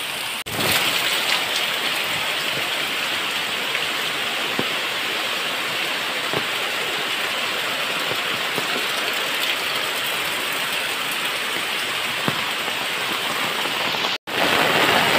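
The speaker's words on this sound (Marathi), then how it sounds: "एवढा जोरात पाऊस लागतोय" Heavy monsoon downpour in the Konkan region beside a road with water pooling, a dense, constant roar of rain close by, with faint scattered clicks and a brief dropout near the end; no speech.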